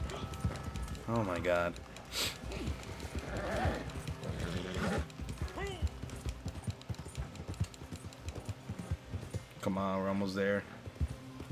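A horse gallops in Red Dead Redemption 2 Online, its rapid clip-clop hoofbeats running steadily with occasional neighs and whinnies. Excited players talk over the hooves throughout.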